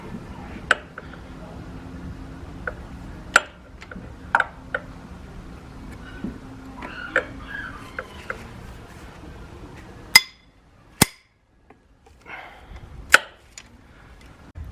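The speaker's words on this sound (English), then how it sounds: "all 12 bolts are loosened" Bolts being loosened on the cylinder head of a Yamaha FZ6R motorcycle: separate sharp metallic clicks and clinks of a tool on the bolts, close and fairly loud over a quiet workshop, with a brief pause between strokes.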